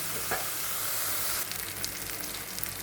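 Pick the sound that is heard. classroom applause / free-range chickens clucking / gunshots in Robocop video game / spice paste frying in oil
spice paste frying in oil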